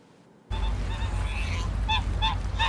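A person imitates a goose honking, giving several short nasal honks in quick succession over a steady low rumble of background noise.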